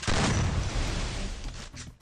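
Loud, rapid gunfire from Garena Free Fire rattles in a dense burst, hammering continuously before easing and breaking into a few scattered shots near the end.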